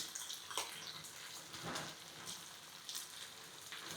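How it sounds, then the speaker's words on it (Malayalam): Prawns frying in a pan with a little coconut oil make a soft, steady sizzle with faint crackles and a turning scrape, quiet and close, with no speech. "ഒരുപാട് നമുക്ക് ഫ്രൈ ചെയ്യണ്ട ജസ്റ്റ് ഒന്ന് ഫ്രൈ ചെയ്തെടുത്താൽ മതി ഒന്ന് മറിച്ചിട്ട് കൊടുക്കാം"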